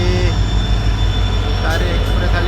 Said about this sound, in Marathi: तुतारी एक्सप्रेस आली तुतारी